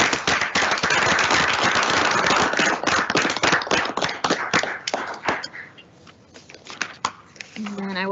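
A room of people at a school board meeting claps loudly and steadily, the applause thinning into scattered claps before a voice begins speaking at the end.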